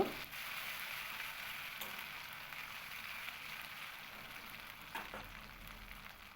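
Ground ginger spice paste fries in a pan for vegetarian doodh potol, a faint, even, close sizzle with a couple of small scrapes.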